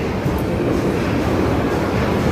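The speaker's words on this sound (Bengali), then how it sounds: "মেট্রো যাচ্ছে" A metro train passes nearby with a loud, continuous low rumble and rolling rail noise that holds steady for the whole short stretch, with no one speaking.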